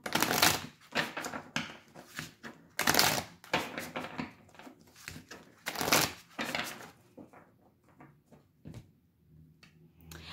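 Tarot cards are shuffled and cut by hand in bursts of riffling and flicking, close and fairly loud, with short pauses and smaller card taps toward the end.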